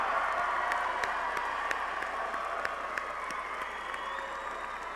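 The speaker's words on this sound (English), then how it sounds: "Will the friends and other relatives of our candidates and anyone else I might have missed please stand and receive our applause?" Applause from a commencement audience as friends and relatives of graduating candidates stand, a dense, steady wash of many hands clapping that holds evenly for the whole stretch, loud and continuous with no voices standing out.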